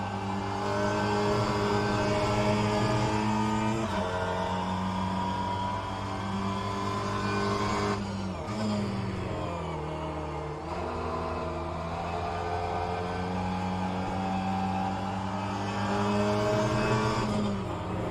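Mini Cooper S MK1 racing car in a sim race at Blackwood, its engine held screaming at the red line in a steady high-pitched drone, dipping briefly as gears change before climbing again, loud and close.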